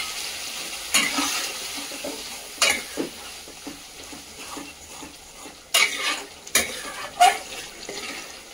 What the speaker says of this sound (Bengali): মশলাটাকে কুক করার জন্য অল্প একটু জল দিয়ে নেব।